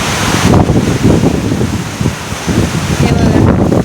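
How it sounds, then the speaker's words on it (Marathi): Heavy monsoon rain pours down steadily on a terrace in Vasai, a broad, constant roar with wind-like gusts that swell and fade, loud and close throughout. "पाऊस बघा कसला पडतोय"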